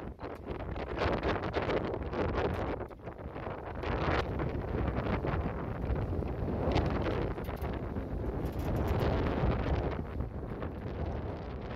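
Strong wind roars steadily across a sailboat at sea, about 25 knots of apparent wind while beating upwind in the Grenadines toward Carriacou, a dense continuous buffeting rush with gusty swells and no voices.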